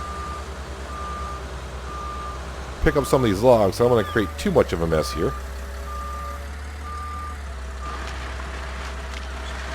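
Reversing alarm of a truck in Farming Simulator 19, steady evenly spaced beeps over a low engine hum throughout, with someone talking over part of it.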